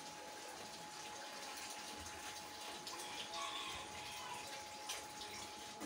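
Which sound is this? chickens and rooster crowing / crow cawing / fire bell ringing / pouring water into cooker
pouring water into cooker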